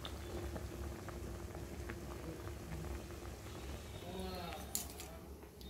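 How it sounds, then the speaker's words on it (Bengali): A pot of whole gota siddho lentils boils in a wok with a steady, low bubbling simmer and soft popping patter. It stays quiet and continuous throughout, with faint background noise and a brief clink near the end. "এই যে বন্ধুরা এই গোটা সিদ্ধটা এখন ফুটছে কড়ার মধ্যে"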